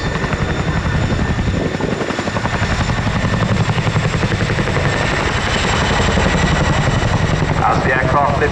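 A loud, steady Chinook twin-rotor helicopter roar with heavy rotor thumping and turbine whine, close by at an RAF Cosford air display, continuous throughout.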